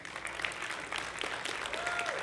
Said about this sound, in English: Can we give the graduates another big hand?